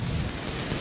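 Steady rain falls over an outdoor crowd lining the route of the 137th Rose Parade in Pasadena, a continuous broadband wash with no voices in the moment.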